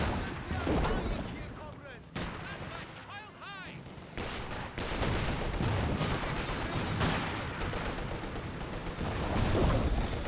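A frag grenade goes off amid a running Company of Heroes 2 battle, one blast among dense gunfire and artillery rumble that stays loud and continuous throughout.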